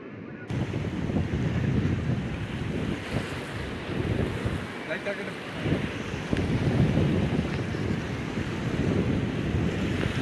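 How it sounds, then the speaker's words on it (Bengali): Incoming tide water and waves in the Sundarbans wash steadily and close for about ten seconds, mixed with strong wind buffeting the microphone, with no talk over it. "জোয়ারের জল আসছে,"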